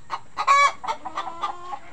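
Rhode Island Red chickens cluck in a quick, uneven series of short calls at close range, with one longer, louder squawk near the start and no talking.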